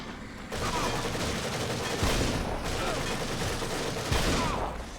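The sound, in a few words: machine gun spam in The Evil Within video game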